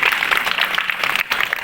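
Applause from an audience at a parish jubilee celebration in Engandiyur, Thrissur: a brief, fairly loud burst of many hands clapping together, with no talk over it.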